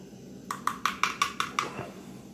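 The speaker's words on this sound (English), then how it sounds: "So let's just keep stirring this up." Spoon clinks against a pot at home while stirring food toward a boil, six quick metallic taps in a steady rhythm, close and fairly quiet, with no talk.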